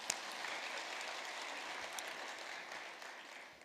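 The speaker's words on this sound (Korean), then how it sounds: "우리 하나님께 감사의 박수 드리겠습니다." Congregation applause at a packed early-morning special dawn prayer service at a Yoido Full Gospel church in Korea, a steady, moderately distant roar of many clapping hands lasting several seconds and easing slightly toward the end.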